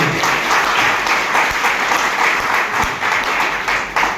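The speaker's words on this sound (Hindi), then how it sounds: "जोरदार ताली दें आप लोगों के लिए।" A seminar audience breaks into loud, sustained applause, dense overlapping claps filling the room steadily for several seconds.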